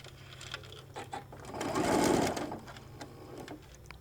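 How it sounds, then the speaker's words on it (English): A sewing machine stitches across the folds of a shoulder bag, its motor whirring up into one fast, close run of stitches that swells in the middle and then eases off. "stitch all the way across, catching those at 1/4 inch, releasing the clip, pushing those folds together, and stitching across"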